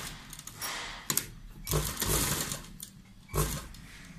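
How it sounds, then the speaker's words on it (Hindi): A sewing machine stitches along a fabric edge while sewing sleeves, its motor whirring in a few bursts of a couple of seconds each with short pauses between, close and fairly steady, no talk. "फिर इसे इस तरह सिल दोगे।"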